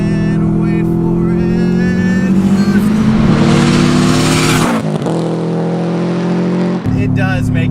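Boosted Subaru WRX pitched through a corner, its engine droning steadily and building in pitch before easing off, then surging again, with someone talking over the engine throughout.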